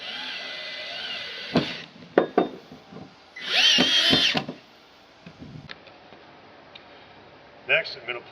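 Power drill driving supplied hardware into a 90-degree elbow on an ADA railing, one short whirring burst among clicks and handling knocks, with a few brief tool taps toward the end.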